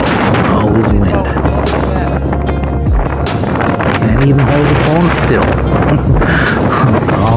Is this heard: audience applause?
no